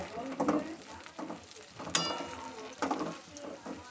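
Ground chana dal paste stirred into hot oil in a pan, heard as soft scraping and sizzling strokes in irregular bursts, with one sharper clink partway through, close and moderately quiet.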